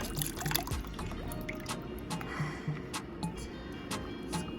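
A tie-dyed baby onesie dipped quickly into liquid dye, with soft trickling, dripping and small splashes across a quiet room, no talk.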